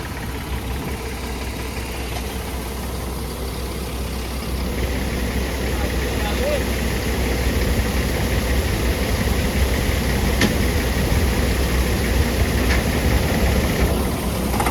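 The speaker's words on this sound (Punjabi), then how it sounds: "ਆ ਇਹਨਾਂ ਦੇ ਟਰੈਕਟਰ ਨੇ ਜੀ ਗੁਜਰਾਤੀਆਂ ਦੇ ਛੋਟੇ ਛੋਟੇ" A small tractor engine idles steadily in a Gujarat wheat field during harvest, giving a continuous low rumble with a thin whine above it that holds for the whole stretch without pause.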